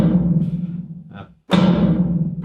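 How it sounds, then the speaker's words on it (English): Dense, sustained metallic clanging of a metal fence being struck, with a ringing low body, broken by a brief quiet dip before another sharp strike restarts the loud clatter. "Apparently that was the sound of them hitting a fence in Shoreditch"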